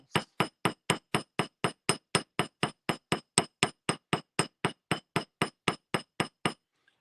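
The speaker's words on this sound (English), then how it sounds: "proper hammering is I'm going to hold this at the base of the hammer" A hammer strikes wire squiggles for a handmade necklace: about twenty-five sharp, metallic taps in a steady, even rhythm, loud and close, with no voices and silence once the hammering stops.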